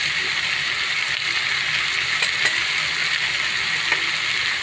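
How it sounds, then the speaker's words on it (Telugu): Amaranth leaves frying in a pan with turmeric, salt and chili powder, a steady broad sizzle with faint stirring clicks throughout, close and fairly loud, no talking. "అలాగే తోటకూర వేగుతుంది కదా"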